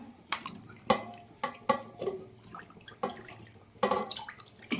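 Peeled raw banana pieces are swished and splashed in a bowl of rice-washing water, giving repeated sharp sloshes and drips at an irregular rhythm, close and fairly quiet.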